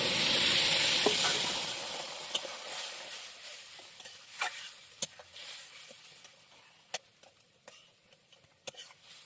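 Bitter gourd frying in a pan gives a loud hiss that fades over the first few seconds, then settles into a quieter sizzle punctuated by sharp spatula clicks and taps against the pan, with no one talking.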